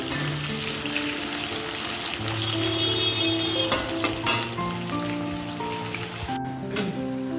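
Cabbage and potato fry in oil tempered with bay leaf, a steady hiss and crackle sitting beneath louder melodic music that plays throughout, with no one speaking.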